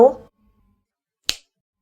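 A brief voice fragment, then after a pause a single sharp, crisp flick or snap nearby.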